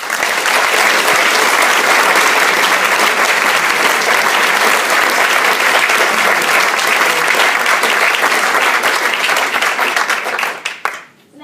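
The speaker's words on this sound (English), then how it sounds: "join me in giving our passionate and talented speaker another well-deserved round of applause." A crowd at a Licensed Victuallers speaking competition gives a speaker a long, loud, even round of applause that holds for about ten seconds, then quickly tapers off into scattered claps.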